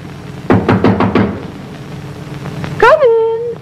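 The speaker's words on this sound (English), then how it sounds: "Hark! Who knocks?" Knocking on a door as a radio play effect: five quick, evenly spaced raps, close and loud, followed by a rising voice.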